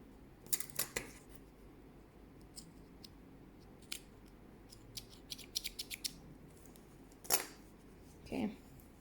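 Scissors snip through crochet yarn in a handful of quick, close, crisp cuts, spaced apart with quiet handling noise between them.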